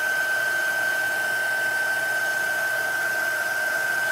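Hair dryer running steadily on an art journal page to dry wet paint, a loud, constant close-up whir with a sharp whine, unbroken for the whole stretch with no talk.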